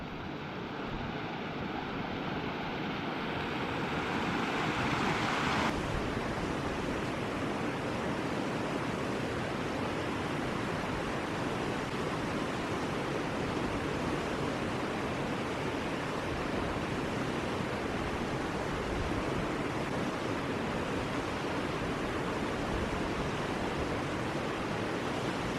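Steady, dense rushing water from a remote waterfall on Arran roars continuously nearby, a broad hiss without pause or variation.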